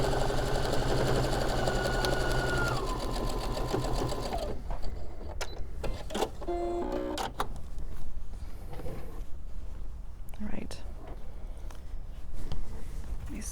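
A sewing machine stitches a quilt seam for a November sampler block in a steady, close, fast run for about four seconds, then stops, leaving quieter handling clicks and rustles of fabric and pins.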